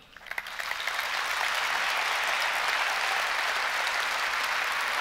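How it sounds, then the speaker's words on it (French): Applause from a large conference audience starts with a few claps, swells within a second, then holds as a dense, steady clapping roar. "je vous demande de les applaudir"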